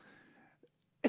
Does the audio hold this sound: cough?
yes